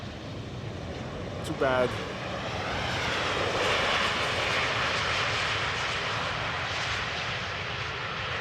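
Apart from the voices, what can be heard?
Embraer 195 jet landing at Amsterdam Schiphol Airport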